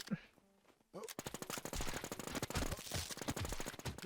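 Rapid automatic gunfire in a shooting video game, a loud burst of close shots firing in quick succession after a short quiet opening.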